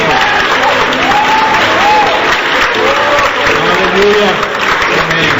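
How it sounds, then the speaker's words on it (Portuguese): A church congregation applauds during worship, steady dense clapping that fills the room for several seconds while voices speak and call out over it. "aplaude o Senhor"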